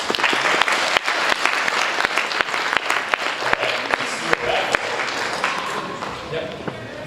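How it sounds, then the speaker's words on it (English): An audience at a science fiction and fantasy author panel in New York gives a round of applause, dense clapping with sharp individual claps standing out, gradually thinning toward the end. "Let's give a round of applause."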